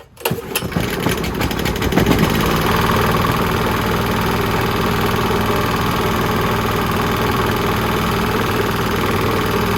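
A rebuilt Honda GX270 small engine cranks, catches and settles into a steady, loud running drone with throttle at midway, close by and continuous with no talk.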